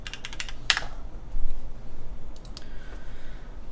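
Clacky keystrokes on an Optica mechanical keyboard come in quick bursts with a louder clack near the start and a few scattered presses later, close and alone against a low background hum.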